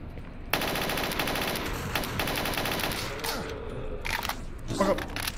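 Sustained rapid gunfire in S.T.A.L.K.E.R. Shadow of Chernobyl, a steady automatic rattle running for several seconds and then thinning into scattered shots, with a voice speaking over it near the end.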